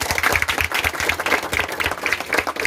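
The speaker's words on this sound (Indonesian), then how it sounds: "Luar biasa. Ayo tepuk tangan." Schoolchildren at an emergency school in NTT clap together, a dense, fairly loud burst of rhythmic hand claps with a regular pulse and little talk over it.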